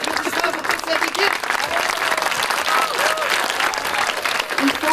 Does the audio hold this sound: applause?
yes